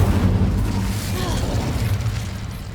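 Incendio fire spell in Hogwarts Legacy erupts as a sustained roaring burst of flame, loud and close, rumbling steadily and fading only slightly over a few seconds.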